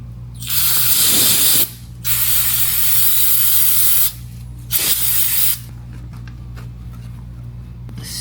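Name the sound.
spraying brake cleaner on a car speed sensor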